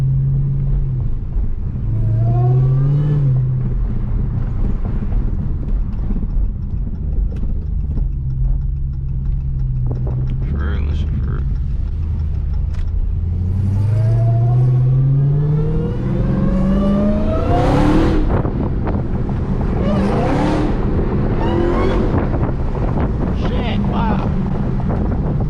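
A Hellcat Chrysler 300 with a mid muffler delete cruises through a neighborhood, its engine rumbling loud and close with wind buffeting the microphone, rising in surges as it accelerates, while people talk over it at times.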